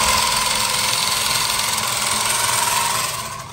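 Sewing machine stitching shut ration packs, a steady loud mechanical whirring and rattling drone that runs continuously and eases off slightly at the end, with no talking.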